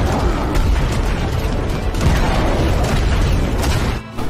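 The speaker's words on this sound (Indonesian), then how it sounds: "prajurit naga bantuin hunter pakai tembakan meriam rudal dari tembok pertahanan kota" Cannon and missile fire from a city defense wall, a dense continuous barrage of booms and bursts that stays loud throughout and briefly drops out near the end.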